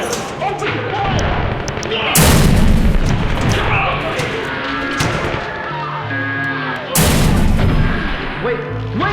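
Gunfire and explosions from the horror video game Happy's Humble Burger Farm: loud booming blasts and heavy rumbling thuds, with two big bursts, while a voice shouts urgently over the din.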